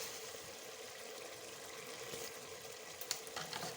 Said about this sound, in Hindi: इसको हम अच्छी तरह प्याज में फ्राई कर लेंगे।